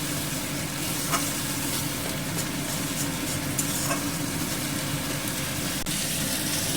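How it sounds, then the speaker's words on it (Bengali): Onions frying in oil in a pan over a low gas flame, a steady close sizzle running throughout with faint occasional scrapes of stirring, no voices. "পেঁয়াজটাকে আমি গ্যাসের ফ্লেমটা কমানো আছে, একটু ভালো করে ভেজে নেব যেন পেঁয়াজের কাঁচা গন্ধটা চলে যায়"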